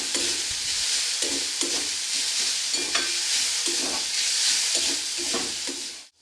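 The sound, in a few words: sautéing potato and carrot masala with chili powder in pan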